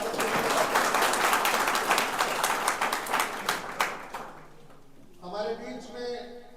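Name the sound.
audience applause welcoming a guest at a job fair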